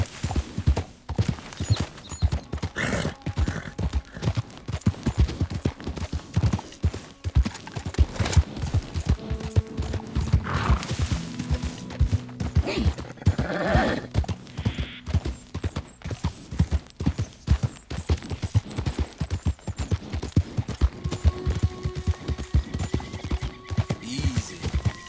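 A horse's hooves clip-clop in a quick, steady rhythm through a Red Dead Redemption 2 ride, loud and close throughout, with occasional snorts and whinnies breaking in over the pounding gait.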